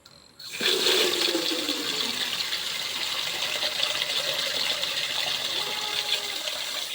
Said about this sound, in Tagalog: Tapos, lagyan po natin ng tubig.